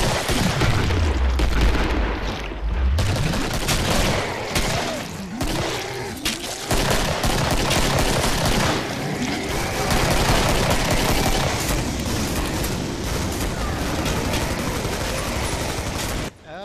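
Continuous gunfire from weapons in the co-op shooter game Killing Floor 1, with rapid bursts and heavy booms running densely through the whole stretch at close range.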